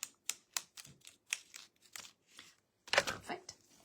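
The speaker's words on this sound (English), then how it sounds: "I'm going to use my crafted rubber scissors because they will be the least likely to care that they're having to cut plastic." Rubber-handled craft scissors snip through a plastic sheet, a series of sharp, close snips and crisp cuts at an irregular rhythm with a brief pause before a final cluster of cuts.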